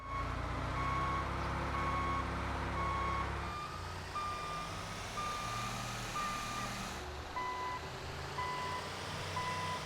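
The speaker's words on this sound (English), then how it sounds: "The Chernobog actually has a unique reverse beeping sound compared to other vehicles in the game." Steady electronic reversing beeps from the Chernobog, a large military truck in GTA 5, repeating at an even interval over a low engine rumble that shifts partway through, clear and prominent with no talk.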